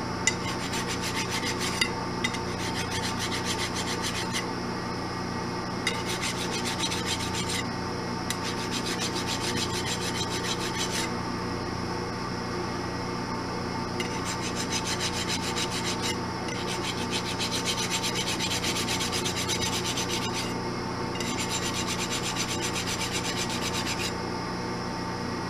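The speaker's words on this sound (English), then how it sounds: "I'm gonna just hit this with a file just to get that nub." Hand file rasping a nub off a wooden piece on a lathe, close and steady with repeated rhythmic scraping strokes in bursts, no talking.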